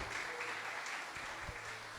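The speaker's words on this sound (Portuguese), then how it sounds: "Quantos podem aplaudir o nome do Senhor Jesus?" Church congregation applauding, a steady wash of clapping that stays even and moderately loud for about two seconds, with a few sharper claps standing out near the end.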